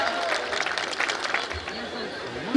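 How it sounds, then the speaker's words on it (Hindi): An audience at a poetry gathering in Varanasi claps to welcome a female poet to the stage, a thick, continuous wash of applause from a large crowd with faint chatter mixed in. "एक बार जोरदार तालियां हो भावना जी आपके बीच"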